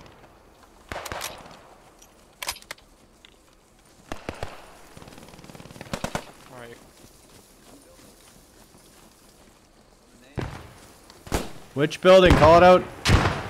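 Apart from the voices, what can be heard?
gunfire in video game Post Scriptum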